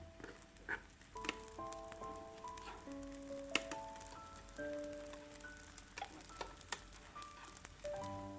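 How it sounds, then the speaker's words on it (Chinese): A small cabbage pancake frying in a pan gives off a faint, steady sizzle and crackle, with soft pops scattered through and no voices. "给它翻个面，再煎另一面"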